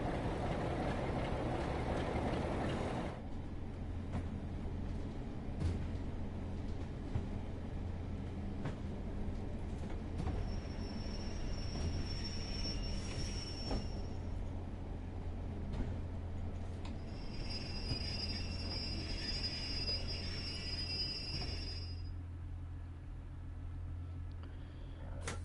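A Class 47 locomotive running in the Train Sim World game on a Northern Transpennine service to Blackpool, with a steady low engine drone and rolling rumble throughout and faint high whines coming and going.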